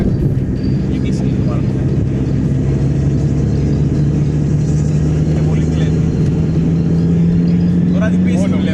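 A Mazda MX-5 tuned to 335 hp revs with a steady engine drone that climbs gradually in pitch, running continuously at close range while people talk over it.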